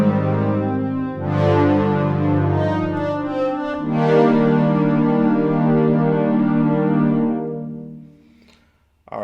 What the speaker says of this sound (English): sound design our own string sounds